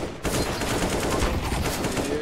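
Sustained automatic gunfire in CS:GO, a continuous rattling stream of shots kicking in abruptly and running without pause.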